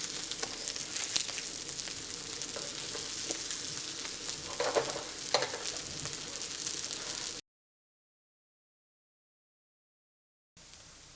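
Veggie burgers cooking on a grill make a constant, soft, close sizzle with faint crackles, broken by a few seconds of silence before the frying resumes.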